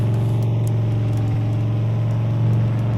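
Truck engine in Farming Simulator 22, heard from inside the cab: a steady, loud, low drone that holds at an even pitch throughout, with no talking.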